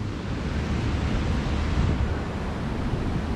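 Water at Lanterman's Mill, a historic grist mill in Mill Creek Park, rushes steadily into the mill to turn its wheel, a dense continuous roar close by with no voices.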